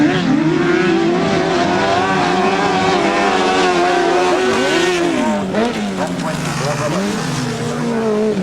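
Grasstrack motorcycles racing down the straight at a 1999 grasstrack meeting, a loud continuous engine roar with shifting pitch as bikes pass, while a commentator talks over the noise.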